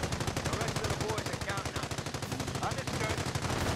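Rapid, sustained machine-gun fire from the World War II strategy game Company of Heroes, a dense, steady stream of bursts that runs loud and continuous throughout.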